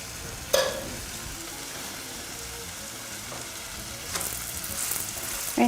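A chapati fries in a little oil on a flat pan, giving a soft continuous sizzle with one sharp crackle near the start and a brighter burst of frying toward the end, close and without voices.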